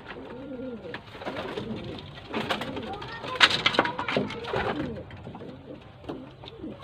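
Pigeons in a loft coo repeatedly during pairing, soft throaty rolling calls in an uneven rhythm at close range, with a few sharper bursts midway.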